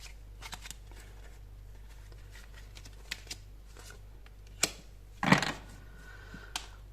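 A hand shuffles a deck of oracle cards before drawing a single card. Soft, quick riffling and taps come up close and quiet, with a sharper flutter near the end, and no speech.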